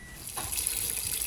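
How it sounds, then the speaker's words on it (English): Water pours from a tap into a cooking pot for boiling udon noodles, a brief, close, steady gush with no voices. "Next, in a pot of your choosing, add however much water is needed to cook your noodles."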